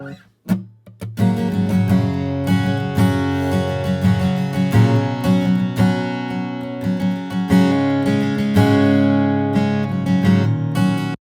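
Acoustic guitar strummed and picked alone, full and polished with a controlled, even tone from upper-mid EQ and gentle compression, chords ringing steadily after a couple of opening plucks.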